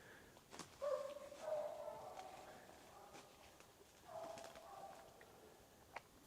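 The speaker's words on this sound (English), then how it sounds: "So the initial barks that we're hearing right now" Squirrel hunting dogs bark at a distance outdoors during a training competition, a few short, faint barks spread out in time.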